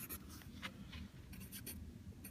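Pencil or pen sketching a curved graph on paper, quiet scratchy strokes in short bursts at close range with no talking.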